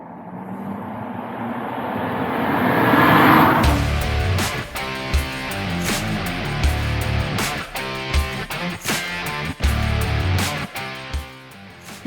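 A BMW 135i accelerates in a few short bursts; a rushing build-up gives way to a loud, close engine note that climbs and drops with each squirt of throttle.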